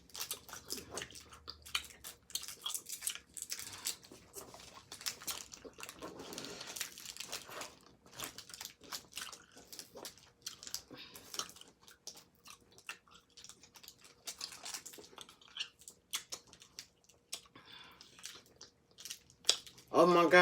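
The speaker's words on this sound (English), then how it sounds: "these are so hard to chew" Someone chews Hi-Chew candies with wet, sticky mouth noises and gives off crinkly rustles, and the chewing carries on steadily for about twenty seconds. Voices occasionally break through the chewing.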